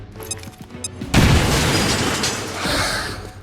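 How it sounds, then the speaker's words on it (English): A forklift blows up in XCOM: Chimera Squad with a sudden loud boom, following a short stretch of quieter game sounds. A dense roaring rumble stays strong for a couple of seconds and swells again near the end. "It just blew up the forklift"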